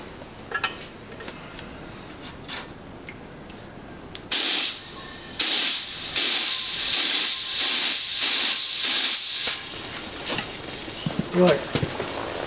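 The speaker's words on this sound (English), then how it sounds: "Doing it this way, I should mostly get gas out of it instead of dry ice." A fire extinguisher held upside down vents gas in a run of loud, sharp hissing bursts, pulsing on and off for several seconds before cutting out, with quieter background sounds before and after.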